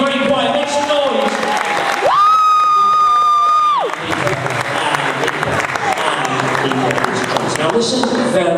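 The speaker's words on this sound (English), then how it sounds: "Give him a big round of applause. Come on, you're very quiet. Make some noise." An audience at a stage hypnosis show claps and cheers in a loud, sustained wash of applause with whoops and shouts, briefly joined by a steady electronic tone.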